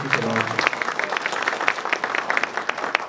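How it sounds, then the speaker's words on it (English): Applause from an audience at a public meeting in Fresno, California, a dense patter of claps carrying steadily for about three seconds with a few sharper claps standing out. "if we could just give him a round of applause"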